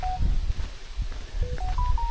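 A mobile phone sounds a short beep, then after a pause a quick rising series of electronic tones, heard outdoors on a walk to water wheels over rumbling wind and footsteps.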